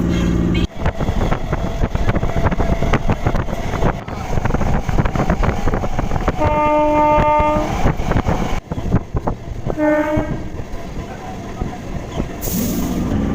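A local train pulls into Kalyani station in Nadia with loud, continuous rumbling and wind buffeting, two short tonal horn blasts sounding partway through.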